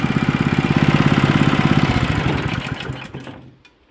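A small motor on an old farm machine runs close by in a steady, fast, pulsing chug, then slows and winds down to silence near the end.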